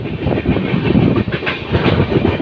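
A train rumbles and rattles steadily from inside a carriage near Jorai station on a journey from Alipurduar toward Kamakhya, loud and close with no voices.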